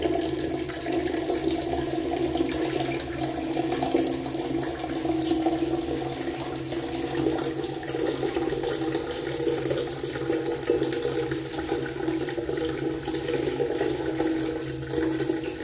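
Tap water runs steadily while hair is wetted before shampooing, a continuous close splashing stream with no voices over it.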